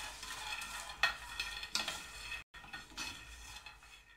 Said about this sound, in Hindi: पीनट को हम हल्की आंच पे 3 से 4 मिनट के लिए रोस्ट कर लेंगे।